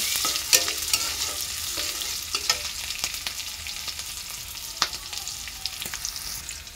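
Cumin seeds sizzle and crackle in hot cooking oil, a steady frying hiss broken by sharp pops and stirring scrapes, close and moderately loud, with no voices.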